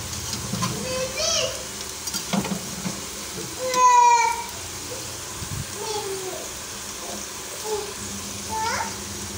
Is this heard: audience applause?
no